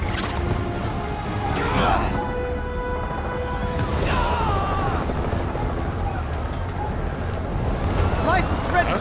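A helicopter in Marvel's Spider-Man Remastered drones steadily under loud in-game dialogue, with sharp crashes and swishes breaking through at intervals over about nine seconds.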